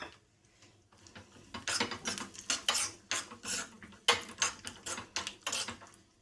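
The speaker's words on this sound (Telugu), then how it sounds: "బాదం పప్పు, జీడిపప్పు, కిస్మిస్ పండును వేసుకొని కలర్ మారే వరకు దోరగా వేయించుకొని" Almonds, cashews and raisins being fried in cow ghee and stirred, with a metal spoon clattering and scraping against the pan in quick, uneven bursts at close range.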